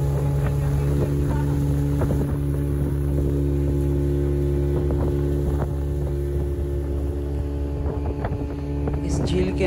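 A motorboat carries people across a lake, its engine droning steadily and loudly throughout with wind noise on the microphone.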